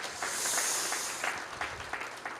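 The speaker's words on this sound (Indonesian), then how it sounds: "Kasih tepuk tangan buat Tuhan Yesus." Congregation at an Indonesian church service clapping together, a dense hiss of applause with distinct rhythmic claps surfacing, fairly soft and steady with no clear talk.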